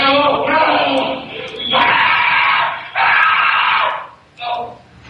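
A restrained teenager screams and wails in long, strained, anguished bursts that rise and break off in a room, loud and close, several cries in quick succession.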